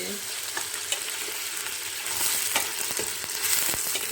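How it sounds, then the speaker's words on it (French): Ingredients for calf's feet with white beans fry with onions in hot oil, a steady close sizzle with scattered crackles and pops that thicken slightly toward the end, with no talking. "Je vais faire revenir tous ces ingrédients."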